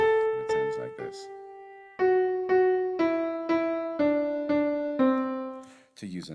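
A melody in C Lydian mode plays as clear sustained tonal notes: a few quick notes, one held tone, then a slow evenly paced line of separate notes, each decaying, with a short voice sound at the end.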